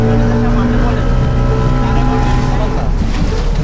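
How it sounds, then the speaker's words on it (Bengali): Speedboats and trawlers run on a river, a loud, steady engine drone with deep tonal hum and rushing water and wind noise, with voices over it. "দূর থেকেই বোঝা যাচ্ছে আমাদের অনুসরণ করছে দুটি স্পিড বোট ও দুটি ট্রলার"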